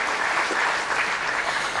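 A festival audience applauds the programme with a short, even burst of dense clapping from a large crowd.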